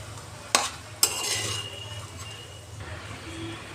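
Sabudana khichadi being stirred in a pan, two sharp metallic scrapes of a spatula against the pan followed by soft sizzling and shuffling, close and alone without speech.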